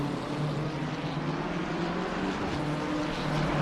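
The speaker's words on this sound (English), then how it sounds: "I can hear a car rolling." A race car rolls around the Barcelona track in a sprint race, its engine a continuous, even drone that holds steady and fairly loud throughout without breaks.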